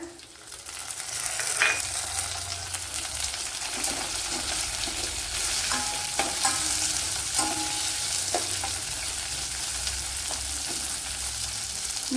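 Tomato and onion fry in a pan for a Kerala-style pineapple pulissery, making a steady, close sizzle with scattered scraping and clacking as the mixture is stirred throughout.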